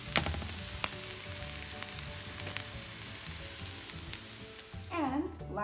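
Hash browns sizzle and fry steadily in a pan, a continuous hiss with a few sharp crackles and a brief stirring scrape near the end.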